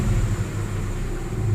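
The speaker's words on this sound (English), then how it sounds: "All right, she's idling good." A Nissan Xterra engine idling after its check engine light was cleared, with a misfire from bad injectors, giving a steady low rumble and hum heard close, even and unbroken, with no talking.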